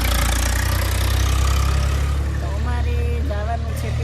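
A tractor rumbling along a village road, a loud, steady low engine drone close by that holds throughout, with faint voices in the background.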